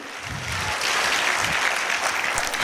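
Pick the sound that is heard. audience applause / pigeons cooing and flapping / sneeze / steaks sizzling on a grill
audience applause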